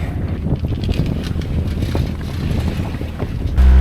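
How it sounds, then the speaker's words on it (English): A sailboat's motor runs steadily while the boat heads into the wind, with a continuous low drone and heavy wind buffeting the microphone, growing louder at the very end. "All right, motor's on."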